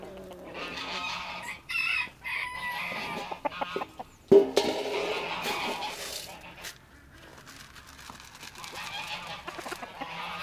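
Hens on a farm during winter chores cluck and call for about ten seconds, with several sharp bursts early on and a steady farmyard murmur after them.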